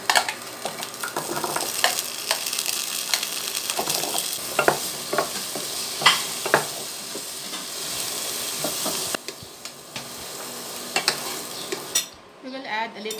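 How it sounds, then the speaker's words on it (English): Potatoes stir-fried in oil for beef kaldereta, a continuous loud sizzle broken by frequent utensil scrapes and knocks against the pan, easing off just before the end. "And then we will stir fry the potato."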